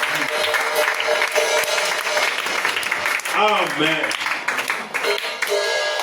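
A church congregation applauds in a thick, continuous wash of clapping, with a voice calling out briefly over the hands midway through.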